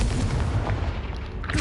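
A Confringo blast spell goes off in the video game Hogwarts Legacy, a single booming, explosive burst with a short rumbling tail.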